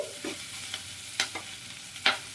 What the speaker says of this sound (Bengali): এবার এটাকেও একটু ভেজে নিচ্ছি